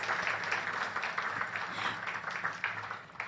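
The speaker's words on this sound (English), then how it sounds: "I'd like you all to join me in giving a round of applause to the NHRA" Audience applause for the NHRA at a World Ayurveda Day celebration in Bahrain, a moderate, fairly distant patter of clapping from a hall crowd, rising and falling slightly over a few seconds.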